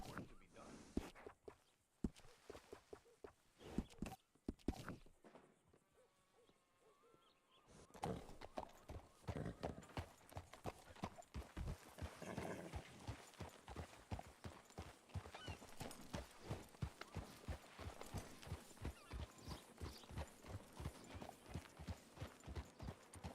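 Horse hooves clip-clopping at a steady walking pace in a western video game, a continuous rhythmic string of close hoof strikes after a brief quiet stretch, with occasional tack rattles and talk over it.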